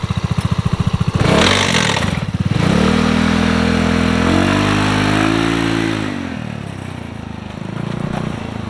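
The 200 cc EFI engine of a Vitacci Venture off-road go-kart idles close by, then revs and pulls away. Its pitch rises and falls through the gears, and the sound fades somewhat toward the end.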